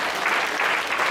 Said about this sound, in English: Give an applause to Jesus.